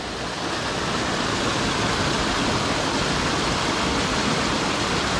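Steady, dense roar of a waterfall on a mountain stream, continuous broadband rushing water filling the whole clip at close range with no voices.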